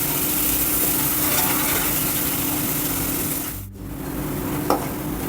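Onion, garlic and ginger paste sautés in a pan for Vidarbha-style patwadi bhaji, giving a steady, close sizzle and stir under a faint hum, with a brief dip and a small clink near the end.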